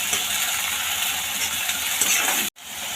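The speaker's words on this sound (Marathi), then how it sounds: "ह्यामध्ये आलं लसूण पेस्ट थोडंसं मीठ हे दोन मिनटं परतून घेऊया" Ginger garlic paste, ground masala and a little salt sautéing in a pan, a steady bright sizzle with faint stirring scrapes, cut off abruptly near the end.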